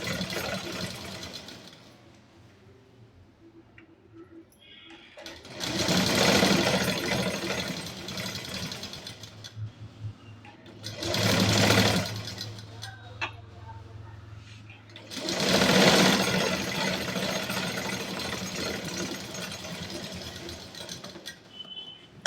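A sewing machine stitches together fabric panels of an eight-part underskirt in three long whirring bursts, close and fairly loud, separated by quieter stretches of handling noise.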